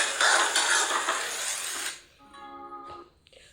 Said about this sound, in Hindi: तो अभी मैं बना रही थी इधर राइस, तड़का लगा रही हूँ।